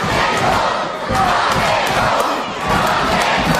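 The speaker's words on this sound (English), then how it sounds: "I can't remember the last time I heard a Franklin crowd like this" A wrestling arena crowd in Franklin roars and shouts during a Rock & Roll Express versus Midnight Express match, a loud, dense wall of cheering and yelling that swells and dips but never stops.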